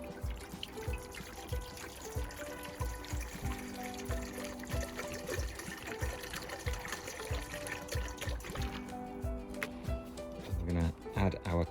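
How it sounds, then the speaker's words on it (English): A litre of water poured into a cooking pan for elderflower cordial, a continuous splashing trickle running for several seconds with background clatter. "we're going to get a litre of water into our pan here"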